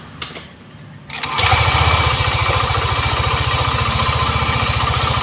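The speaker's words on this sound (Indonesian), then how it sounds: "Maka akan saya hidupkan motornya." A Yamaha Aerox NMAX scooter with uneven variator rollers cranks briefly, then the engine catches and settles into a loud, steady close idle with rhythmic low pulsing.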